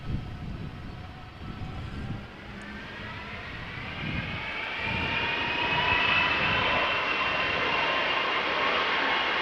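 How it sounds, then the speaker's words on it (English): A Delta Airbus A330-300 bound for Portland, Oregon departs Amsterdam Schiphol in crosswind, its jet engines building into a loud, steady roar that swells and holds near the end with a rising whine. "A330-300 going to Portland, Oregon"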